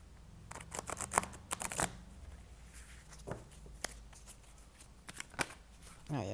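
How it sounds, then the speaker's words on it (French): Oracle cards being shuffled by hand, a run of crisp riffling and slapping bursts in quick clusters, then sparser flicks and taps, close and fairly quiet with no talk. "Je vais battre les cartes."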